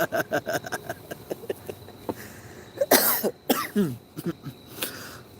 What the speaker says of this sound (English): I'm coughing because of the smoke.